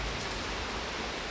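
Heavy rain falling outside a house, a dense, even hiss of drops that stays constant through the short stretch, with no talking.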